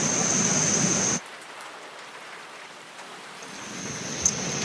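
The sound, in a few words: rain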